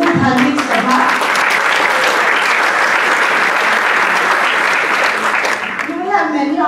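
A Hindu women's conference audience breaks into loud, dense applause for a speaker, with a voice heard briefly at the start and again as the clapping fades.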